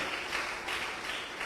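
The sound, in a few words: congregation applauding loudly in church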